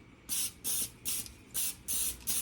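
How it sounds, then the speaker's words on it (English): Six short bursts of aerosol cooking spray onto foil hiss in a quick, even rhythm, close and crisp, with nothing else heard. "you're gonna spray this with some cooking spray"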